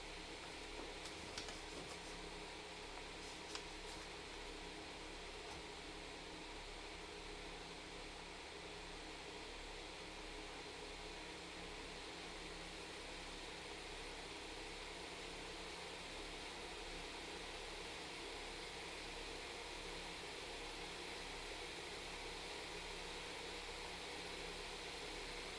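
A Piper Arrow's engine drones steadily from inside the cockpit in flight, a constant dense hum and broadband roar with no breaks, close and unvarying throughout.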